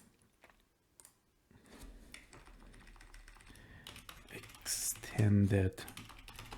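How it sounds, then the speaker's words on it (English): Typing on a computer keyboard, heard as a run of light clicks over a low hum while a person talks, with a louder stretch toward the end. "Let me type it here for you."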